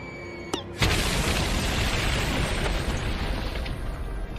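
A cartoon bomb pie explodes in SpongeBob with a sharp click followed by a sudden loud blast that settles into a long roaring, crackling rumble lasting several seconds.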